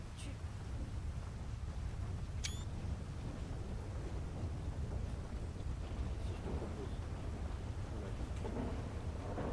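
A thunderstorm rumbles as a steady low roar of rain and wind, with deep thunder filling the background and no distinct sharp crack.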